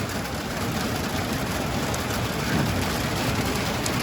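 Heavy rain with hail pours steadily and loudly on surfaces outside a house in Enerhodar, a dense continuous roar with no speech over it.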